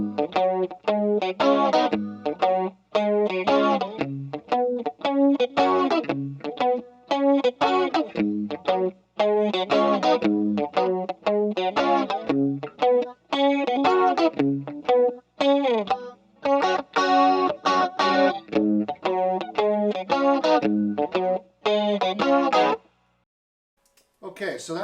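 Electric guitar in standard tuning plays a riff, a funky, choppy pattern of muted strums and bluesy chord stabs with slight overdrive, repeating steadily for over twenty seconds before stopping.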